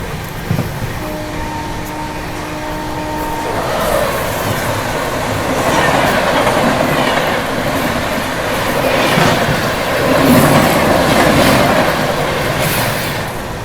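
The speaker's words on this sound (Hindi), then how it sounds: "तो अभी सामने से ये आ रही है निज़ामुद्दीन विशाखापट्टनम समता एक्सप्रेस।" The Nizamuddin–Visakhapatnam Samta Express passes close by at night, heard from aboard another train as a loud sustained rumble with rhythmic clatter of wheels over rail joints, rising and swelling through the pass.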